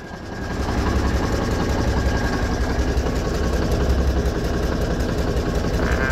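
A 1985 GMC General truck engine idles steadily, a loud, continuous low rumble with a fairly even throb that holds throughout without revving.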